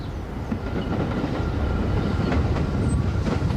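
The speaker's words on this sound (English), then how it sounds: "The 125th Street subway station at 7:45 a.m., the rumble of the one train cuts through the eerie stillness" The 1 subway train at 125th Street station in Harlem, New York, early morning, a loud continuous rumble with rhythmic clacking of wheels and faint squeals, steady throughout with no voices.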